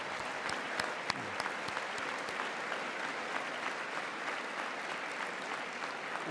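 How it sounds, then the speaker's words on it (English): A large chamber audience at a State of the Union address claps in a dense, continuous roar of applause, steady and unbroken throughout with no voices standing out. "It's amazing how much they clap."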